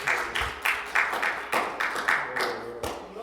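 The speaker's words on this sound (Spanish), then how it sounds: "Denle un aplauso a Dios" Congregation in a Spanish-language church service applauding, claps arriving in rhythmic waves roughly every third of a second, fairly close and reverberant, with some faint low background sound beneath.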